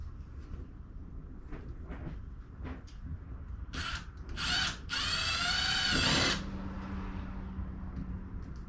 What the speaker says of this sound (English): To attach the pulley, drill 2 1/8" holes through the outside of the hole